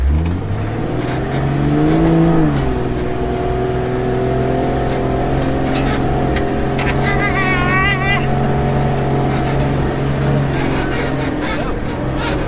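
An off-road vehicle engine revving hard in low gear on a rough trail, a loud continuous droning growl with pitch rising and falling, with voices talking over it.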